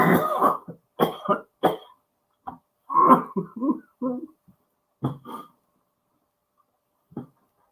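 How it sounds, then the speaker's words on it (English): A person coughs and clears their throat in a run of harsh, close bursts, a few quick hacks in a row, then scattered single coughs separated by silence. "Was I really coughing for a minute?"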